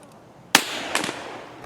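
A sharp, loud gunshot cracks out in the video game Escape from Tarkov, followed under a second later by a weaker second report, with quiet room tone around them.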